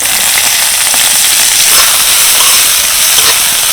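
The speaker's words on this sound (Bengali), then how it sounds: "কিছুটা পেঁয়াজ কুচি নিয়েছি সেগুলোকেও হালকা করে ভেজে নেবো" Chopped onion frying lightly in hot oil, a loud, dense, even hiss and crackle running unbroken from start to finish with no voices over it.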